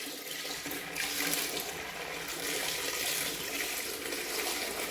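Dirty water is poured out of the tank of a Hoover Power Scrub Elite Pet carpet cleaner, a steady close splashing gush that runs without a break for about five seconds.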